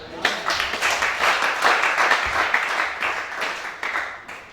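A congregation applauding and cheering at a night prayer vigil in Gabon, a broad, sustained wash of clapping that holds steady for several seconds at close range with voices mixed in.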